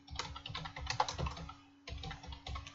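Typing on a computer keyboard, quiet clusters of fast key clicks in two bursts separated by a short pause, heard alone in a quiet room.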